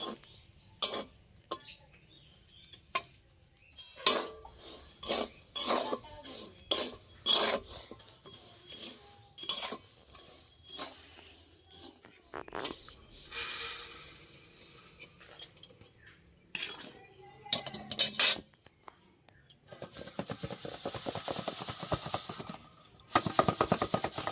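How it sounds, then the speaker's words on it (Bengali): Puffed rice is stirred quickly with salt in a pan, making rapid scraping, rattling and clinking bursts separated by short quiet gaps, with a steadier stretch of scraping near the end. "এইভাবে তাড়াতাড়ি করে নাড়া দিয়ে নুনের থেকে মুড়িগুলো আলাদা করে নিতে হবে"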